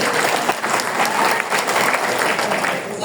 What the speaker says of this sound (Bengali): ওনার জন্য আরেকটা জোরদার করতালি হবে